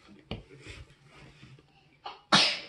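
A small, close sneeze bursts out near the end, preceded by a few faint breaths and soft noises in a quiet room.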